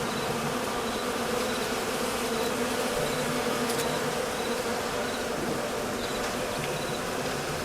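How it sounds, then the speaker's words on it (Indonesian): A swarm of bees buzzes loud and close on a mountain trail, a dense continuous drone that never lets up for several seconds, with no voices over it. "Aduh tolong, ada apa lebah-lebah ini guys?"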